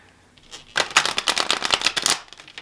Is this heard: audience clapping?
no